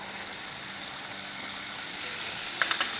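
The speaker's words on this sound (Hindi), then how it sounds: "तो ये अच्छे से गार्लिक और हरी मिर्चें सौटे हो गई है" Garlic and green chillies sautéing in a pan, a steady close hiss and sizzle of frying throughout, with faint clinks near the end.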